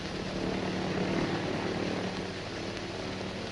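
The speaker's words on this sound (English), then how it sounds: "My men in the other planes are circling about." Several airplanes circling overhead produce a continuous, even propeller drone, a steady mid-level engine hum with no breaks, moderately loud and without speech.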